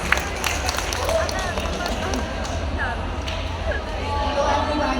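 Audience clapping at a hair and cosmetology seminar in a World Trade Center hall, a busy wash of hand claps and crowd murmur over a low room hum, steady throughout.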